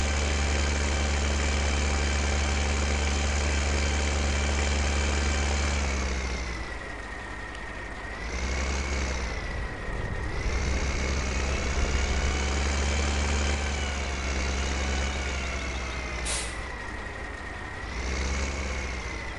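Tractor engines idle in a farming video game on PS4, a steady low mechanical drone with harmonic hum that dips slightly and swells back several times, with no talk over it.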